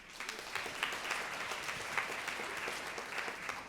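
Steady clapping from a live audience at a podcast-style show recorded in Washington, DC, a dense, even wash of many hands lasting the whole stretch without pause.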